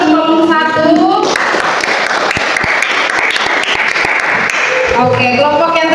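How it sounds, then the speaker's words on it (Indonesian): A classroom group claps for a presenting group of students, a dense patter of hands lasting several seconds, with speech before and after. "Tepuk tangan untuk kelompok 1."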